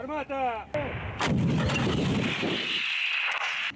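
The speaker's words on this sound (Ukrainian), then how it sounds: "Поруч гатить більш потужна зброя, Д-30" A D-30 howitzer fires at a military training range, one loud booming blast with a long rumbling echo after a brief voice.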